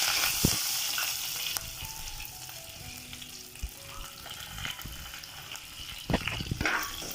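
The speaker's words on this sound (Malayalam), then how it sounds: "കറിവേപ്പില ഇട്ട് കൊടുക്കാം" Curry leaves hitting hot oil in a pan for Kerala-style beef thoran, a steady close sizzle and fry hiss with a brief louder burst near the end, and no voices.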